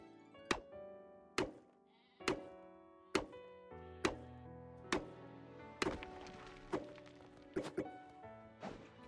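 Level 5 cow in the video game Craftopia, a run of about ten sharp bleat-like calls with hard thunking attacks, spaced roughly a second apart, loud and close with no talk.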